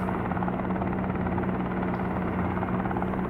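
Helicopter in the Helicopter Simulator video game, a loud continuous rotor and engine drone with a steady low hum and rapid blade chop, constant in level throughout.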